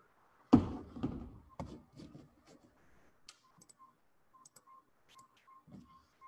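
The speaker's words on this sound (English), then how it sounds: "that's the sound of clicking its bill together" A Northern Saw-whet owl held in the hand during bird banding snaps its bill, giving a sharp, loud click followed by several softer scattered clicks close by, with a faint recurring beep in the background.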